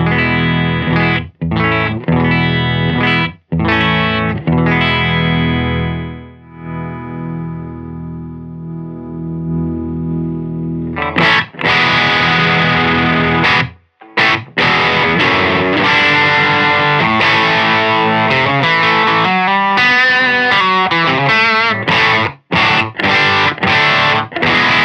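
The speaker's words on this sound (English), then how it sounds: "I am going to start out with a Scythe Guitars OH-19 running into a Silk Tone Amp" Scythe Guitars OH-19 electric guitar through an Electronic Audio Experiments and Obstructures 0xEAE fuzz pedal into a Silk Tone amp, loud heavily distorted chords with a long ringing sustain and then choppy gated stabs and bursts.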